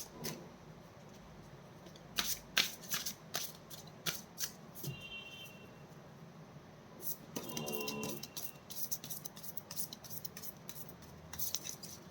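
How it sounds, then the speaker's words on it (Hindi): Tarot cards are shuffled in a quiet room: a series of close, crisp riffling flicks and soft slaps arriving in irregular bursts, with pauses between them. "This is my last shuffle, angels."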